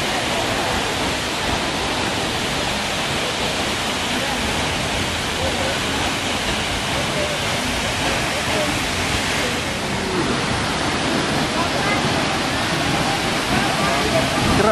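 A steady, dense roar of Lone Creek Falls in Mpumalanga fills the whole stretch, loud and unbroken, like standing close to a waterfall.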